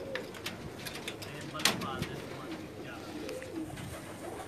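Pakistani pigeons coo softly and repeatedly at close range against a constant background hiss, with a few brief sharper calls mixed in.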